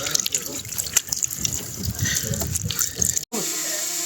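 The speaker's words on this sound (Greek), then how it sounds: "Ανοίγουμε το νεράκι." Tap water runs steadily into a sink while potatoes are washed outdoors before grilling, a continuous close splashing gush that cuts off abruptly near the end, with people talking over it.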